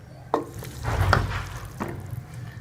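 Fried potatoes are stirred into chicken vegetable macaroni in a pan, giving a soft sizzle with a few scraping stirs and one sharper clink near the start, close up with no talking.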